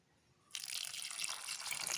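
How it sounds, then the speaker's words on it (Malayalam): Water is poured onto jaggery in a pan to melt it, a sudden close splashing gush that starts after a brief quiet moment and continues steadily. "ഇതിലേക്ക് നമുക്ക് അല്പം വെള്ളം ഒഴിച്ച് കൊടുക്കാം"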